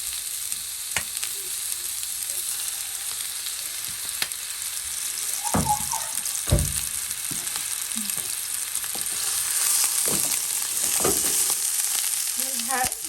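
Chicken and shrimp with vegetables such as broccoli fry in a pan with olive oil, giving a constant hiss of sizzling fat punctuated by the clatter and scrape of stirring utensils.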